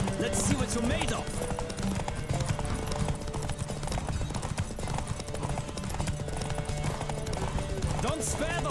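A horse gallops in The Witcher 3: Wild Hunt, its fast, rhythmic hoofbeats steady throughout alongside neighs, with game voices talking over the ride.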